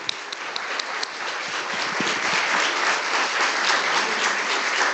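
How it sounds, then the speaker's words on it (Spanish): A university lecture audience at UNAM in Mexico breaks into sustained applause, a dense, even wash of many hands clapping that holds steady and grows slightly fuller over the five seconds, with no voices on top. "un aplauso que te brindamos como reflejo de hoy"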